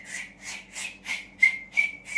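A person whistles a string of about seven short, evenly repeated high notes, clear and fairly close, with no talking alongside.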